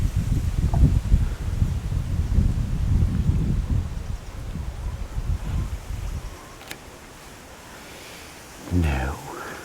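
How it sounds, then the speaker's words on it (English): Gusty wind buffets the open air beside a match fishing lake at Rookery Waters, a loud low rumble that surges and eases over several seconds before dropping away, with a brief voice near the end. "Bloody wind's blowing it back to me."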